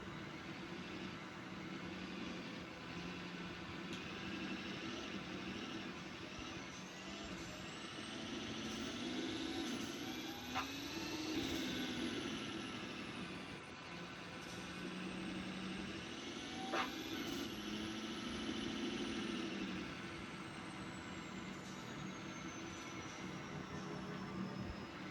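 A 2003 Ford F-350 truck in a Roblox driving game rolls along with a steady broadband engine and road roar, swelling twice with rising and falling whine sweeps as it picks up speed; no voices.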